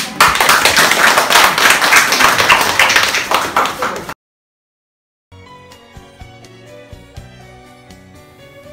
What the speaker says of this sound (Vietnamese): Rồi mọi người cho tràng pháo tay.